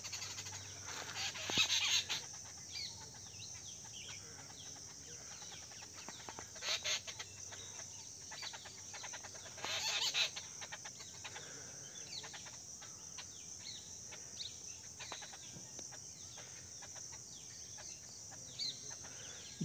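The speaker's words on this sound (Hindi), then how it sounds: "ये सात भाई का जोड़ा एक साथ में रहता है दोस्तों देखिए चिड़ियाओं का जंगल में" A flock of jungle babblers calls in a forest, with harsh, clucking chatter that bursts out loudly in several spells over a steady background of insect hiss.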